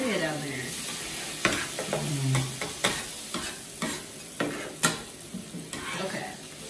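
Onions sizzle and fry in a pan as a utensil stirs them, with soft scraping clicks at irregular intervals over a steady close, quiet frying hiss.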